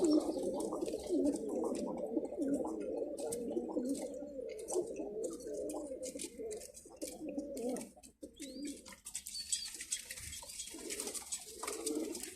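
Pigeons in a loft coo in deep, rolling, overlapping calls, close and continuous, fading briefly midway before resuming among faint rustling.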